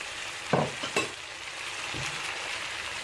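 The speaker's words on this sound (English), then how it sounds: "my vegetable has been frying for close to 10 minutes now" Vegetables sizzle steadily in a frying pan while fried rice is being cooked, with a couple of sharp scraping stirs near the start and a softer scrape later over the continuous hiss, no voices.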